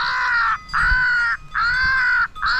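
Blasts on a handheld crow call imitating crows: four loud, harsh, nasal caws in a steady rhythm, each about half a second long with short gaps, close and alone.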